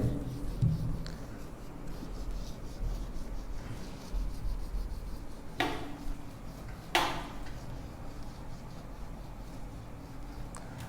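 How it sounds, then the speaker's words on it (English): A geometry diagram of a circumcircle and incircle is drawn by hand, marker or chalk scratching in short strokes through most of the stretch, with two sharper, louder strokes partway through and some faint background noise. "I will draw this diagram again."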